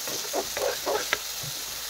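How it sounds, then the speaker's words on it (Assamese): Whole spices frying in hot oil in a pan for a chicken curry, a steady low sizzle with a few soft stirring scrapes and one brief sharp tap, no talking. "মছলাখিনি ধুনীয়াকৈ অলপ সময় ভাজি ল'ম"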